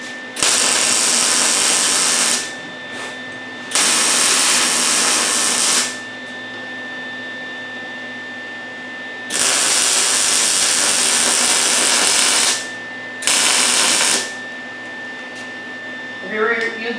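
A Lincoln 180 welder laying welds on the upper flanges of a 1967 Mustang convertible, heard as several loud, steady buzzing bursts a few seconds long, separated by quieter pauses.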